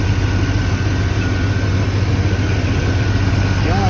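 A 1992 Chevy engine idles steadily with a low, even rumble and constant hum, running alone with no talk.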